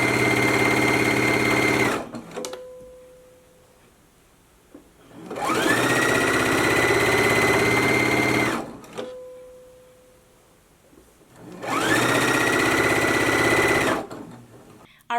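Domestic sewing machine stitching a 5/8-inch hem on the back piece of a McCall's 7975 twist-front top, three steady whirring runs of about three seconds each, separated by quiet pauses.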